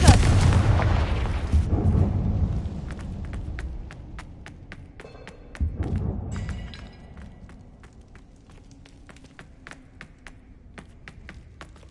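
The Confringo fire spell from Hogwarts Legacy detonates in a loud blast, followed by a second burst midway, then a scatter of sharp crackling taps fading off with no talk.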